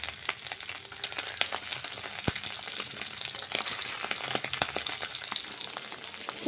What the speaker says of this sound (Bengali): তেল আমি দিয়ে দিলাম। এবারে এগুলো আমি ভেজে নেব।